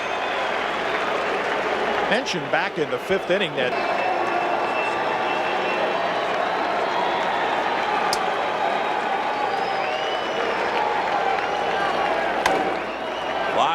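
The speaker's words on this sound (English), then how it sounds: "the crowd gets louder with each succeeding putout by the A's" Dense crowd roar fills a baseball stadium during the 1990 ALCS, Red Sox at the Athletics in Oakland, swelling steadily under a broadcast announcer's continuous talk, with a few sharp knocks near the start.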